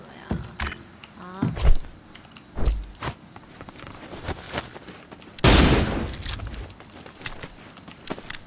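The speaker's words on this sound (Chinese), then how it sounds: "不要老是乱开枪啊！" Gunfire in a video game: scattered sharp shots ring out across the stretch, with a louder, sustained blast of fire near the end over faint background game noise.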